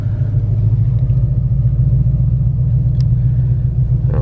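A Ford 5.0 engine rumbles loud and low inside the car as the driver holds the gas, a steady heavy drone with no clear rev peaks.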